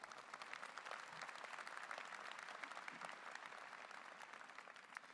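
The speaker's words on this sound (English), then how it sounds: "So let's all give them a big round of applause for all they do." A graduation ceremony audience applauds the student advising staff with a continuous, even wash of many hands clapping, heard from a distance and fairly quiet throughout.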